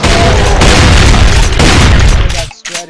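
Loud, sustained explosion blast in the first-person shooter Brutal Doom, a dense roaring boom filling nearly three seconds before cutting off abruptly, followed by brief game effects.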